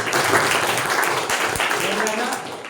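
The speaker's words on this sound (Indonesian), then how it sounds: "Tepuk tangan" Schoolchildren clapping for classmates after a classroom presentation on HIV and AIDS, a dense burst of close applause mixed with voices and chatter throughout.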